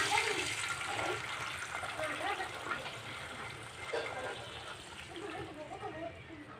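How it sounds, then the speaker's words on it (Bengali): Water poured into a pan of frying onions and green chillies for a soupy noodle dish, a steady splashing gush running throughout at moderate loudness, with a voice talking over it. "এখানে আমি পানি দিয়ে দেবো।"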